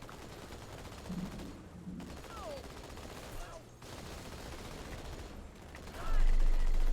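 Halo 2 gameplay with turret fire, rapid bursts of gunfire and rumbling combat noise running steadily throughout at moderate loudness, and a heavier blast near the end.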